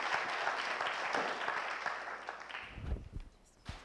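Audience applause at a Kristallnacht remembrance event, a dense clatter of clapping hands that holds for over two seconds and then thins into a few scattered claps and room noise.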